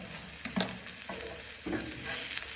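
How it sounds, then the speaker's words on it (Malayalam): Sliced onions sauté in a hot pan for a pizza dosa, giving a soft, steady sizzle with a few stirring scrapes and clinks, fairly quiet and with no talking. "അതിലേക്ക് തന്നെ നമുക്ക് ഒനിയൻ സ്ലൈസ് വെച്ചിരിക്കുന്നു ഇട്ട് വഴറ്റാം."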